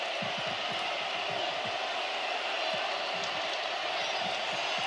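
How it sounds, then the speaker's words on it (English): A stadium crowd celebrating the Denver Nuggets' NBA championship keeps up a continuous roar of cheering and applause, with scattered low thumps throughout. "take your headsets off, and just listen to this crowd"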